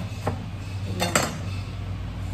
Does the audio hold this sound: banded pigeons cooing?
no